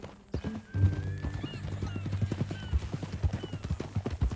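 Horse hooves clip-clop in a steady, quick rhythm in Red Dead Redemption 2, close and moderately loud, with a horse whinnying near the start and voices talking over the riding.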